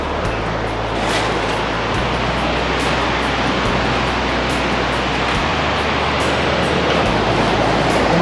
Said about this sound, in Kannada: ಉಂಚಳ್ಳಿ ಜಲಪಾತ